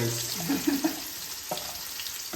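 Onions sautéing in a home kitchen pan, a close sizzling hiss with a few clinks and scrapes of stirring, no voices.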